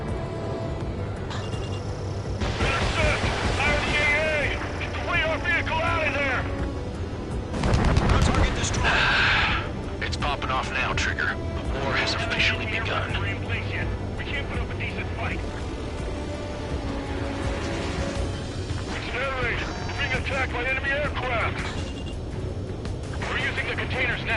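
Anti-air guns fire in the Ace Combat 7 video game, a steady rumble of rapid shots and booms layered with jet noise, while voices talk over the action.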